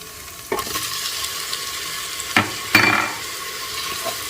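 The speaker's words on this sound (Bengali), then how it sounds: "এবার এর মধ্যে দিয়ে দিচ্ছি টমেটোর টুকরো" Tomato pieces dropped into frying ginger-garlic paste for tomato rice, a steady sizzle under a few louder scraping and splattering bursts as the mixture is stirred, with no one talking.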